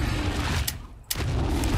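Two sharp gunshots from a modded gun in the video game ARK crack out over a steady low rumble of game ambience, loud and close, with a brief dip in the background between them.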